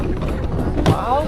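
A boat rides choppy sea on a nearly three-hour crossing to Camaya Coast, with steady engine and water rumble and buffeting wind, while a person talks over it.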